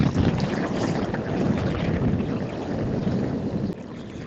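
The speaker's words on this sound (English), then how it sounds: "Just gonna fight the wind all the way back home." Strong wind buffeting the microphone during a bike ride near sand and open water, a loud continuous roar and rumble with no let-up.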